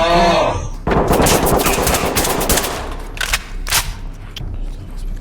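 Loud automatic gunfire from the tactical shooter game Ready or Not rattles in quick bursts of sharp, close shots, with a brief voice at the very start.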